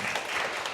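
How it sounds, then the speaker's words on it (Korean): Applause from a congregation at a Korean church service, a steady, dense wash of clapping heard for a brief moment, with no voices over it. "큰 감사의 박수를 보내드리겠습니다"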